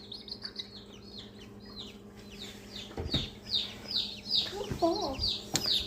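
Newly hatched chicks in an incubator peep in rapid high-pitched chirps, repeated and overlapping at close range, with some low rustling and a brief voice-like sound near the end.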